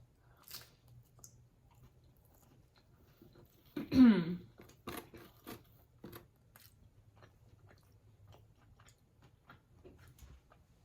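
One crisp crunchy bite of Domino's thin crust Italian sausage and pineapple pizza and a few quieter chewing sounds, close to the ear in an otherwise quiet setting.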